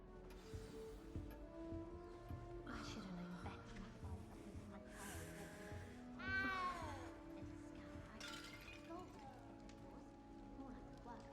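Cat meowing in the video game Hogwarts Legacy, a few rising and falling meows near the middle, mixed in with game music, ambience and character dialogue.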